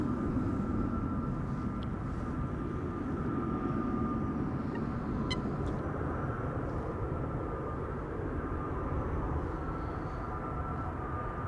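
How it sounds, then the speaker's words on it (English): Airliners taxiing at Amsterdam Schiphol Airport, including an Air Malta A320neo and an Air Europa jet, give a steady, low jet-engine rumble with a faint whine that holds evenly throughout. "Air Malta is also coming, A320neo."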